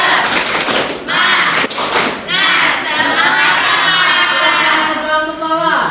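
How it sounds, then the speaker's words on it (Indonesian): Schoolchildren in a classroom clap out a quick, sharp rhythmic pattern of claps, then break into a loud chorus of chanting voices. "Tepuk semangat."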